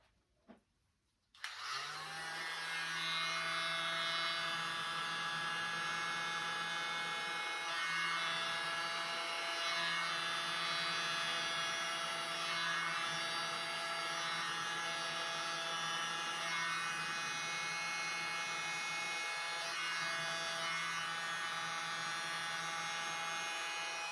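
A hairdryer runs on a Dutch-style blow-out acrylic pour painting, pushing paint drops across the surface: a short quiet start, then a loud, steady whirring roar that holds unbroken for over twenty seconds with no talking.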